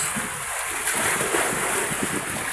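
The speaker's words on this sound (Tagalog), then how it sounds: "Maalon ang dagat guys." Rough sea washes steadily around a small fishing boat, a continuous broadband rush of water and wind buffeting the microphone, with no voices.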